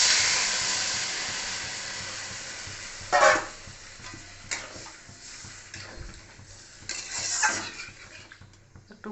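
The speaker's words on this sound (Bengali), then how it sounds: "এবারে দিয়ে দিব আমি জল" Water poured into a hot pan of fried soybean curry, a burst of sizzling and hissing followed by quieter bubbling, with a couple of sharp utensil scrapes and clinks against the pan.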